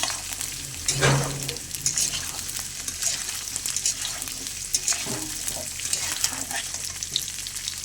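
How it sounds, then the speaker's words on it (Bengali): Drumstick stalks and potatoes fry in a pan, a steady close sizzle with a few stirring scrapes and clinks, no voices over it. "ডাঁটা আর আলু আরেকটু ভাজা ভাজা করে নেব।"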